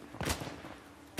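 Two sharp gunshots in the video game Uncharted: The Lost Legacy, one early and one at the very end, fairly quiet over a low ambient bed of game sound.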